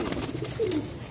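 A pigeon gives a short, soft coo, brief and fairly quiet, amid low background noise.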